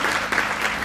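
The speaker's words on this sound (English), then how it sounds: "Give yourselves a massive round of applause" A brief burst of dense, continuous applause from a crowd at a community iftar gathering in London, steady and fairly loud with no voices.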